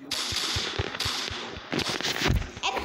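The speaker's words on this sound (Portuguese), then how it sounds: "Quem colocou essa bomba, hein?" Rapid bursts of explosive popping and blasts, like bombs or firecrackers going off in a chaotic battle scene, dense and loud with overlapping cracks throughout.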